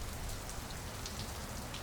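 Steady rain falls in a dense, even hiss across the whole stretch, a continuous wash of droplets on surfaces with no pauses and no voices.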